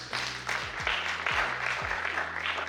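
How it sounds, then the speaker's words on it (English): Steady round of applause from an audience at a valedictory ceremony in Abuja, dense clapping filling the room continuously without a break. "I think we deserve a round of applause."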